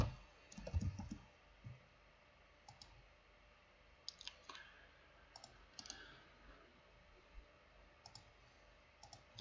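Computer keyboard typing: sparse, faint clicks and short key bursts spread across the stretch, with a louder thump early on, in a quiet room.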